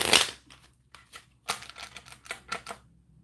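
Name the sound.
shuffling a deck of cards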